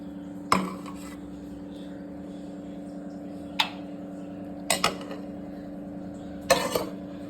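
Fried broad beans served onto a plate: a few sharp clinks of a spoon against steel dishware at scattered intervals, clear and close over a steady low hum, with no talking.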